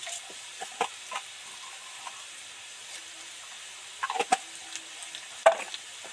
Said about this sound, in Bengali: এবার তেলের মধ্যে মাঝখানে একটা শুকনো লঙ্কা দেব আর দুটো তেজপাতা দেব আর একটু পাঁচফোড়ন